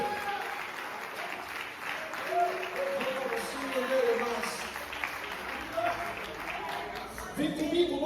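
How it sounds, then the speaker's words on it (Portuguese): Loud sustained applause from a large congregation at a church service, steady clapping filling the space with occasional cheers rising over it. "aplaudir bem forte ao Senhor"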